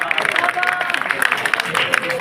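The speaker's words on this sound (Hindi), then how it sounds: "तुहाडियां भरपूर तालियां च जनाब MNA अली ज़ाहिद साहब" A village crowd in Dogri Harian, Pasrur, claps for MNA Ali Zahid Khan during an outdoor address, a busy patter of applause and crowd noise beneath a speaker's amplified voice.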